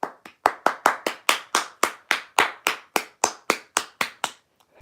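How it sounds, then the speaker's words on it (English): Sharp, close hand claps in a steady rhythmic series, about three to four per second, each crisp and distinct with brief silence between, stopping abruptly near the end. "19 Savage, you deserve a triangle of applause."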